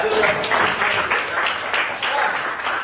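A group claps for Yuka after she talks about playing ball at home and at school, a steady patter of hands throughout with some voices underneath.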